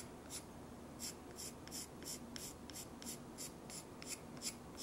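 White charcoal pencil drawing on a ceramic ornament, a faint dry scratching in short, regular strokes repeating roughly twice a second, close and quiet with no talk.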